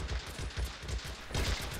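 Machine gun fire in Men of War: Assault Squad 2, a steady rattling stream of bursts with dense battle noise throughout, moderately loud and continuous.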